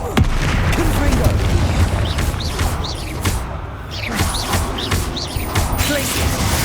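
Confringo spell explosions go off in Hogwarts Legacy as repeated booms and bursts among other spell effects in a busy combat scene, with a voice shouting over them.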